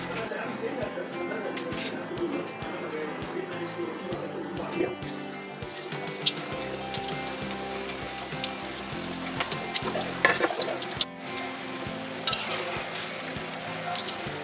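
Soya vegetable chops frying in oil sizzle with a steady, close crackle and occasional sharper pops, while a person speaks over the frying for most of the stretch.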